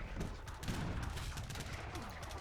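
Cannon fire in the strategy game Age of Empires III: a faint, continuous cluster of overlapping booms and crackling shots, rolling on without a break at low volume.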